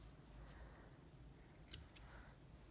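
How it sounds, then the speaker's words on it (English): Scissors give a single quiet, crisp snip through the end of a macrame cord on a plant hanger, over a faint background hiss. "And then you'll take your scissors and cut that end off."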